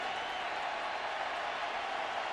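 Baseball crowd at a World Series game in Arlington, a dense, steady roar of many voices and cheering filling the stadium, loud and unbroken throughout.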